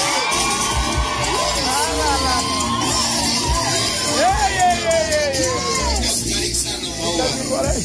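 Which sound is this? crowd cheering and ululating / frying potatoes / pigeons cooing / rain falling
crowd cheering and ululating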